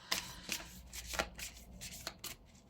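Tarot or oracle cards being shuffled by hand, a series of crisp riffling slaps and flutters in several quick bursts, close and fairly quiet with no talking.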